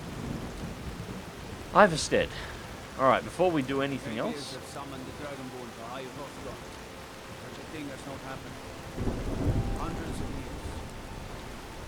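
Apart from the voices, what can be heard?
thunderstorm and rain in the video game Skyrim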